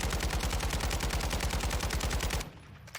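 Rapid full-auto gunfire from a rifle with a rear grip and one recoil attachment in Warzone 2.0, a steady unbroken burst of evenly spaced loud shots lasting over two seconds, then stopping abruptly with a faint tail.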